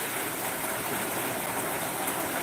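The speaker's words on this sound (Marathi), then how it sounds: "जुलैमध्ये या ठिकाणी पाऊस पडतोय" Steady heavy rain falling in Parli, Beed, a dense, even hiss of downpour without pause, fairly loud and alone, with no voices over it.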